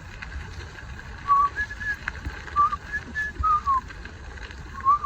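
A person whistles an imitation of a Baltimore oriole's call, a bird passing through Southwest Virginia, in short clear fluting phrases spaced a second or so apart over a faint steady outdoor background.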